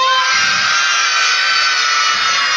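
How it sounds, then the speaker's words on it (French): Children scream and shout with joy during a group singing game, a loud, dense crowd of high voices that runs without a break. "elle crie de joie"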